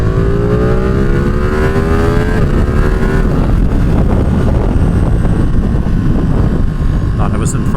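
A vehicle engine pulls hard in gear, its pitch rising steadily while loud wind rush buffets the microphone throughout, with a voice talking over the drone.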